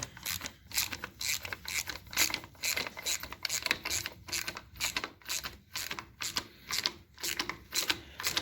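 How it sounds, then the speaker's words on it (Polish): A ratchet clicks in quick repeated bursts as bolts are tightened during a Fendt 515c tractor repair, each stroke a close, loud run of sharp mechanical ticks with brief pauses between. "Teraz już dokręcamy, dokręcamy śruby."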